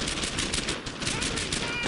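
Covering gunfire in a World War II shooter game, Brothers In Arms: Earned In Blood, a dense, continuous clatter of overlapping rifle and machine-gun shots with no gaps.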